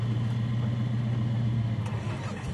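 A 4x4 off-road vehicle crawling over an obstacle at a national off-road challenge in Brits, its engine holding a steady, loud, low drone throughout with no voices.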